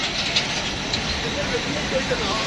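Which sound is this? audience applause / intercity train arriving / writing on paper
intercity train arriving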